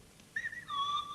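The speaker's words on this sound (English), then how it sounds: "They whistle, and it's a faint sort of fluty whistle." Faint, fluty whistled voices of the Clangers, the knitted puppet characters, rising in a few short sliding notes after a quiet start, then a longer sustained whistle, alone over a soft background.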